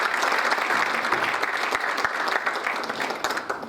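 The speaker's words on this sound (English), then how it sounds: "How about a round of applause to Clayton?" An evening awards ceremony audience gives a round of applause, dense continuous clapping from a crowd, steady and fairly close, lasting the whole few seconds.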